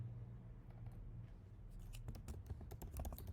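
Quick bursts of typing on a computer keyboard while renaming a text style in Framer, crisp close key clicks clustering in the second half over faint background hum.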